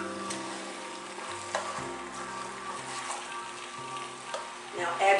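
Diced roasted chilies being stirred into a sizzling pan of chili verde, a steady frying hiss with occasional spoon scrapes and clacks against the pot, close and continuous throughout.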